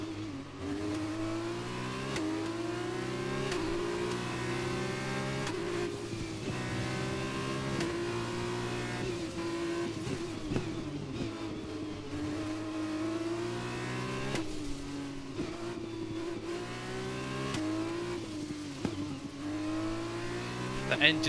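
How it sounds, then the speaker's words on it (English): A Formula 1 car engine in the racing game F1 2021 screams steadily through repeated upshifts as it accelerates, loud and continuous with brief tire noise, with occasional talk underneath. "The engine sounds amazing."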